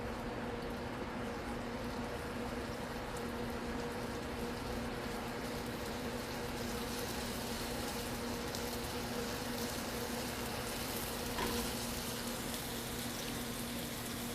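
Bacon-wrapped dates sizzling as they sauté in a warm pan, giving a steady, faint crackling hiss that holds evenly throughout.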